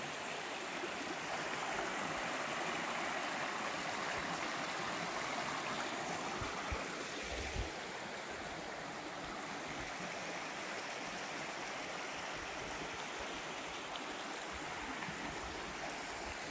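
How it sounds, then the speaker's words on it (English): A babbling brook beside a campsite on the Pacific Crest Trail in Washington flows in a steady, even rush of water, close and constant with no voices. "oh look, a babbling brook, a real babbling brook to go to sleep by"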